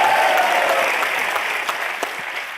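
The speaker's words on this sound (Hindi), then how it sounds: "उसके लिए भी जोरदार तालियां बनती हैं।" A studio audience claps loudly on a comedy talk show, a dense burst of applause that starts strong and slowly thins out over a couple of seconds.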